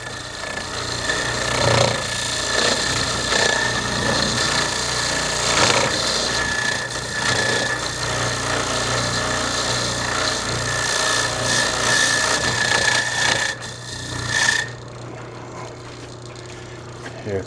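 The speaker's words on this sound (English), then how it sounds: "So we're just going to take the wire wheel to their bracket," A wire wheel grinds rust from the rear brake bracket of a 2014 Chevy Silverado in a continuous loud rasping whir that surges and dips, then cuts out near the end.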